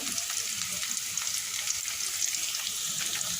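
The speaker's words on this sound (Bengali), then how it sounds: "এখানে দুই তিনটে এলাচকে ফাটিয়ে দিয়ে দিলাম" Bright, steady sizzle of two or three cracked cardamom pods and whole spices frying in hot oil over browned onion, a close, continuous crackle with no voices.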